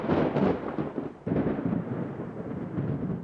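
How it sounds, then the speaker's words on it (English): Thunder during a violent thunderstorm in a forest, a deep rolling rumble that swells, dips briefly, then surges again and drags on for seconds, loud and close with no voices. "There were violent thunderstorms."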